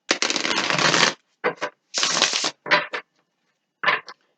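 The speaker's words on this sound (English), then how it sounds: "Give it a couple shuffles" Gilded Tarot cards shuffled by hand in a few separate bursts, the first long and riffling, then shorter snaps and flutters with pauses between, close and crisp with no voices.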